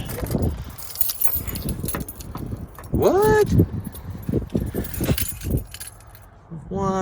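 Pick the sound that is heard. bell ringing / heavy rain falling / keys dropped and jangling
keys dropped and jangling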